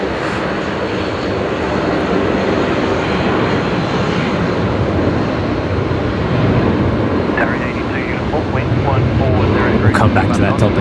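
A Qantas airliner departs Brisbane Airport for Melbourne at night, its engines a loud, continuous broadband roar that stays strong throughout, with faint voices at the end.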